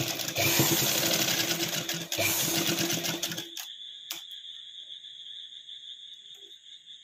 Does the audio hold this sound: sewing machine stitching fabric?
yes